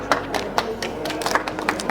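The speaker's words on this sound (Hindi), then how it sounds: "जोरदार तालियों" Applause from an audience at the World Book Fair at Bharat Mandapam, New Delhi: scattered, irregular hand claps, sharp and fairly close, over a light background hum.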